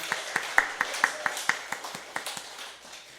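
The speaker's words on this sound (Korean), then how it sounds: "우리 하나님께 먼저 영광의 박수 올려드리겠습니다." A church congregation at a Sunday worship service claps in a clear, regular rhythm, each sharp clap ringing in the hall at moderate distance with a faint room tone beneath.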